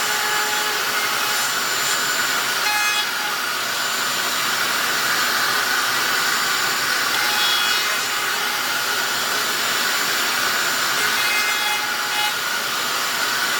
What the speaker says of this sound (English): I'm gonna use a chamfer bit this time.